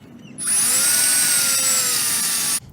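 A power drill bores out a stripped caliper bolt hole on a Jeep Wrangler with a 5/16 bit, one steady loud whirring burst of about two seconds with rising pitch, starting and stopping abruptly.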